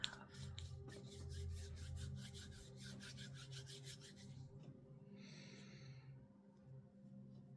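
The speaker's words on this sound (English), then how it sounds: "I'm going to infuse the candle with the incense blend and just kind of rub it all in there" A candle is rubbed by hand with an incense blend, making a soft, quiet repeated rasping scrape close by, followed by a short breathy sound near the end.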